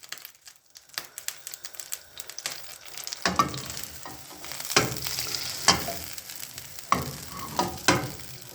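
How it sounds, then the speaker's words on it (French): Butter melting and sizzling in a pan ready for escalopes, a soft crackling fry that starts faint and thin, then grows into a fuller sizzle with scattered sharp stirring scrapes, close and unaccompanied by speech. "Là, vous faites fondre le beurre pour les escalopes"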